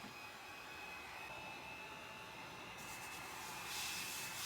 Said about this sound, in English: I'm just going to hit it with my heat gun real quick